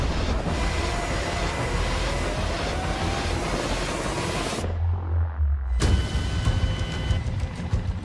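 Steady roaring engine drone with a low rotor-like rumble, loud and continuous throughout, briefly dropping to a deeper hum before returning.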